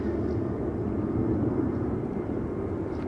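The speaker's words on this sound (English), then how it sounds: "I think we can actually hear the 737 spool up" A Boeing 737-800 spooling up for takeoff on Schiphol's Polderbaan runway, a steady heavy engine roar with strong low-mid rumble, fairly loud and continuous, no voices.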